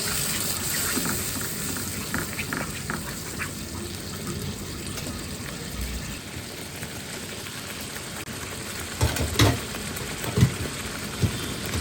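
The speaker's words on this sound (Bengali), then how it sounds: "সেই ব্লেন্ডটা ধুয়ে আমি এখন পানি দিচ্ছি।" Water poured into a pot of spiced beef korma from a rinsed blender jar, a steady wet gush and trickle running through the whole span with a few louder splashes toward the end, no talking.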